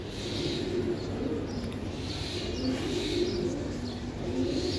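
High-flying Giribaz racing pigeons cooing in a loft, soft repeated low coos over a constant dense hum of background noise, with faint chirps mixed in and no talk.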